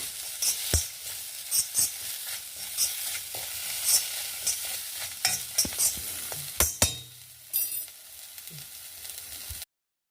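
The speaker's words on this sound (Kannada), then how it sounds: "ಒಂಚೂರು ಪುನಃ ರೋಸ್ಟ್ ಮಾಡ್ತೀನಿ ಹೀಗೆ" Dry coconut being roasted in a pan while cooking a carrot rice breakfast dish: close, repeated scraping and stirring with crackly sizzling, several sharp spatula knocks, with no talking.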